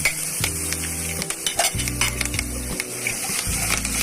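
Ginger garlic paste with cumin and curry leaves sizzling in a hot pan while being stirred, a steady close frying hiss broken by scraping spoon strokes, no talking.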